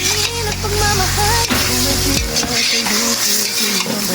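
Spices such as black pepper and bay leaves stirred into a loudly sizzling cooking pot, with continuous frying hiss and scraping stirs close by, with faint music in the background.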